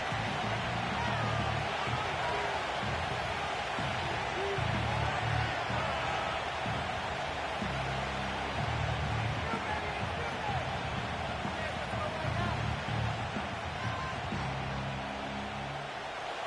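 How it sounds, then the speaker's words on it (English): Football stadium crowd roaring steadily during an NFL game with the Bengals, a broad continuous wash of distant fan noise with faint pulsing swells and a commentator's voice occasionally over it. "this crowd doing their best to make a lot of racket"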